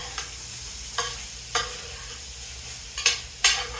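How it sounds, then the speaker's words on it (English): Pastalaya frying in a pot, a steady close sizzle broken by several sharp scraping stirs, with no voices. "if you can hear it, you can hear it sizzle"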